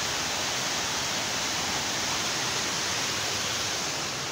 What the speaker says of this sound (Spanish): Vean la cascada.